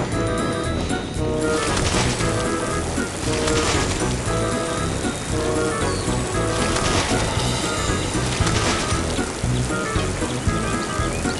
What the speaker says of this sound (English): Help your engine cool their pistons with a refreshing wash at the steamworks.